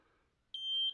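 A small handheld metal detector gives one loud, steady electronic beep lasting about half a second, set off by nails in a wooden utility pole bunk being milled into 6x6 posts. It follows a quiet lead-in.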